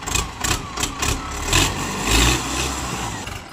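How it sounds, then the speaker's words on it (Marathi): A tractor engine runs nearby in the early morning, a loud steady rumbling idle with slight surges in revs throughout, with no talk. "ट्रॅक्टर घेऊन सकाळ सकाळ"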